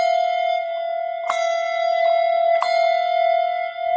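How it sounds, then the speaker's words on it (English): A handbell rung in a conference demonstration, struck twice about a second apart, each clear metallic strike leaving a long, bright, steady ringing tone that sustains throughout. "I can selectively ring either one of those bells."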